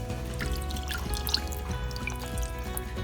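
Water trickling and pouring into a pan with 1.5 cups of sugar over a medium flame to make sugar syrup for Bombay halwa, a steady close stream of liquid with some clinking.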